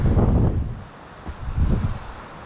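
Gusty wind buffets the microphone on a mountain hiking trail, loud rumbling blasts that ease off briefly before surging again.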